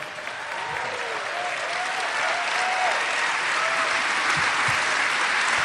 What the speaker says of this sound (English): Everybody, please stand and cheer.